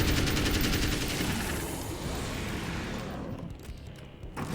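AK-47 fire in Alan Wake's American Nightmare comes as a loud sustained burst of rapid automatic shots. It stays dense and steady for most of the stretch, then thins near the end, with no talk over it.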